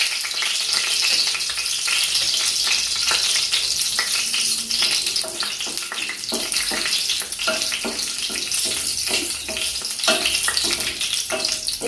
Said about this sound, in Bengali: এবার এর মধ্যে আমি দুটো তেজপাতা, শুকনো লঙ্কা আর গোটা গরম মশলা ফোড়ন দিয়ে দেব।